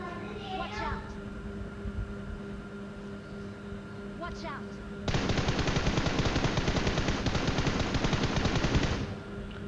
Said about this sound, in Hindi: अंधा दोनों फायरिंग कर रहा था